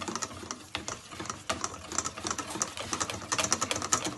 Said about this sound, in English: there are some lumps, which is the reason why I'm using the whisk.